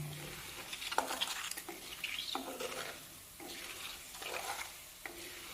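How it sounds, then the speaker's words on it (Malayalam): Herbal hair oil with black cumin and fenugreek boiling in a pot and being stirred, soft bubbling sizzle with repeated scraping strokes of a spoon against the pot, close and fairly quiet. "എണ്ണ നല്ലവണ്ണം തിളച്ചു."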